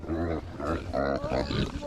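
Pigs grunt and squeal in a close, continuous chorus of short nasal calls, overlapping in a busy jumble.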